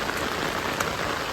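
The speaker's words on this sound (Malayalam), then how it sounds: "ഭയങ്കര മഴയല്ലേ?" A downpour falls hard beside a river while fishing in the evening, producing a constant close wash of raindrop patter with no speech.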